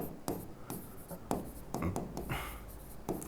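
Pen on paper writing out chemistry theory by hand, a close scratchy series of short strokes and taps in an irregular rhythm, quiet and without speech.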